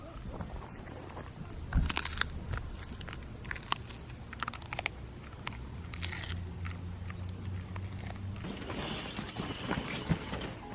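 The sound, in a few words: dog eating a crunchy treat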